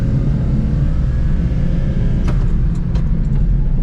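A 1998 Honda Acty mini truck's small engine drones steadily from inside the cab as it drives along the road, with a continuous even hum and no voices.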